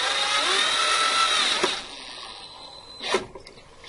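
Power drill drives screws into a wooden bird feeder house, a steady high whine for under two seconds that stops, followed by a brief second spin and small knocks.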